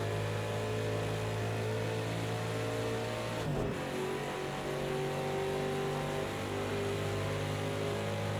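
A Ford Mustang race car accelerates in fourth gear at Road America: a steady, droning engine note that holds evenly throughout, with a brief shift-like dip near the middle and no talk.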